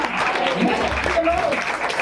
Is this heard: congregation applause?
yes